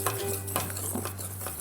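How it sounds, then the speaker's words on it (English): Muffin batter being stirred in a mixing bowl, wet and dry ingredients combined, with close utensil scrapes and clinks against the bowl and a steady low background hum. "Now we're going to mix the wet and dry ingredients."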